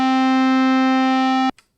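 An FM-synthesized harmonium patch for chiptune holds one steady, buzzy organ-like tone rich in even harmonics for about a second and a half, then cuts off abruptly with a brief faint blip after.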